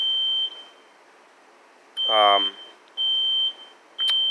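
A fire alarm beeps in loud, steady tones, sounding about every second with short gaps, and a brief voice-like sound breaks in midway.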